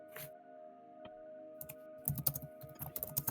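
Computer keyboard typing in a home basement, quiet at first, then a burst of rapid, close clicking keystrokes over a steady low hum.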